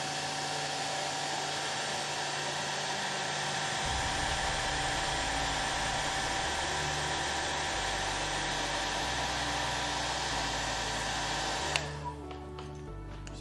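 A hair dryer blows a steady, loud, close whoosh over weathered scale model armor, running continuously with slight shifts in pitch, then cutting off near the end.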